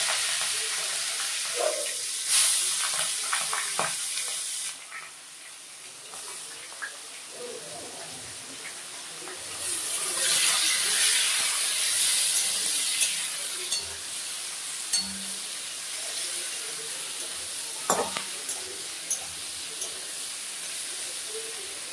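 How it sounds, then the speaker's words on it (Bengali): Prawns frying in a pan after the fried ingredients, a steady broadband sizzle and hiss running throughout with occasional stirring clatter and spatula scrapes. "চিংড়ি মাছগুলো আমি আর একটু ভাজবো"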